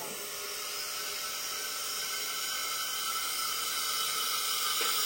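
A steady, strong hiss of air being sucked in at the intake of a car's petrol engine that is running unevenly, heard close and continuous with no voices.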